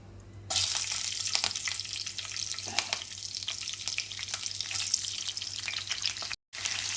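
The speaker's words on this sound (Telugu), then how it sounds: "ఇప్పుడు మనం ఆయిల్ వేడైంది కదా దాంట్లో పచ్చిమిర్చి వేసుకుందాం" Green chilies hit hot oil in a pot for gongura chicken, bursting into a loud, continuous close sizzle with a few crackles and a brief cut near the end.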